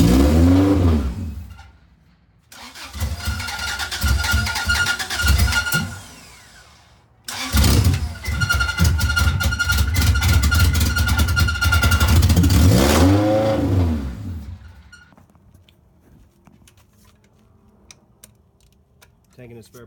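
A motor cranks and catches on a test start, then runs and revs loudly and roughly for about ten seconds before winding down and cutting out into near quiet.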